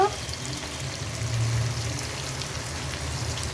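Garlic, cumin and coriander paste with a little ginger going into wild mushrooms frying in a pan, giving a steady close sizzle that swells briefly, with no talking.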